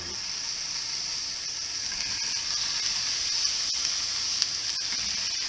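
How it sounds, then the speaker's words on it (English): Ham hamburger patties sizzling on a grill, giving a steady bright hiss of frying that holds at moderate level, with a few faint pops and no talking. "Let the grilling begin."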